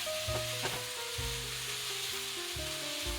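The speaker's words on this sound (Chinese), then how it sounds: "金针菇，翻炒至金针菇变软。" Enoki mushrooms stir-fried in a wok give off a steady sizzle, with scraping strokes of the spatula at irregular intervals and low clanks of the wok on the burner, close and fairly loud with no talking.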